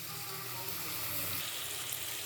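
Onions frying in a pan for a baingan bharta make a soft, continuous sizzle, close but fairly quiet, with a faint low hum underneath.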